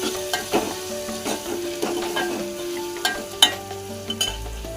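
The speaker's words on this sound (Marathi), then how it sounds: "टोमॅटो चांगले मऊ होईपर्यंत परतून घ्यायचे" Tomatoes sauté in a pan for a horse gram usal, a soft sizzle broken by repeated scraping strokes of a spatula against the pan, close and fairly quiet, with no talking.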